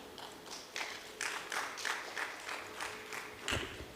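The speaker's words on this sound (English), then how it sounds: "May we have a big round of applause for the tireless efforts made by the participants of Class 10th." Audience at a high school English elocution competition clapping for Class 10th participants, a faint, steady patter of scattered claps with some louder bursts and no voices over it.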